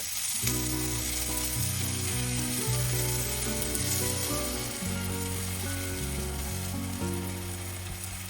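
Cream (18%) being poured into a frying pan holding tilapia in a spinach-tomato sauce, with a steady close sizzle and frying hiss throughout, alone with no talk.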